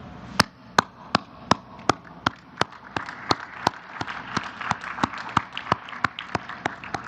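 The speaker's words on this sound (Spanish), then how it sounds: "Un aplauso." Slow, evenly spaced sharp claps ring out at a morning presidential press conference, roughly a dozen crisp strikes over a low murmur of room noise.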